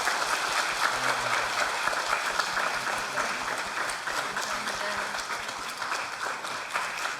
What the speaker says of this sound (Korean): 담임 목사 박정호, 우리 큰 박수 한번 주시면 감사하겠습니다